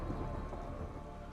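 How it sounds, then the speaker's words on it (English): Torrential rain with thunder, as from a hurricane or tornado storm, forms a dense, steady roar with low rumbling underneath and no voices. "Hurricanes and tornadoes bring torrential rains and wind."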